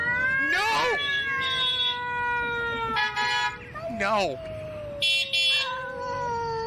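A kitten meows and caterwauls in repeated drawn-out, rising and falling wails, close and loud, while a person's voice scolds over it.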